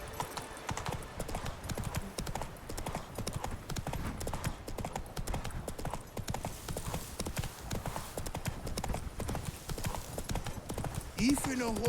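Horse hooves clip-clop at a steady trotting rhythm while riding in the video game The Witcher 3, close and continuous, with a voice heard over the hoofbeats.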